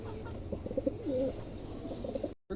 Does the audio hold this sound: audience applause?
no